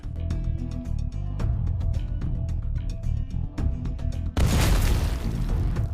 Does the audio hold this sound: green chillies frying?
no